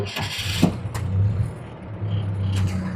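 An M38 jeep with a rebuilt transmission and transfer case out on a test drive gives a low, rumbling engine note that rises and falls as it pulls away and revs, with some clunks, close by.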